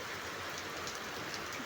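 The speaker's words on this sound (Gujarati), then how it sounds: "એમાં ખૂબ જ પવન સાથે એકદમ વરસાદ તૂટી પડ્યો" Heavy monsoon rain lashes a garden in strong wind, a dense continuous hiss of downpour that stays fairly faint and steady with no voices.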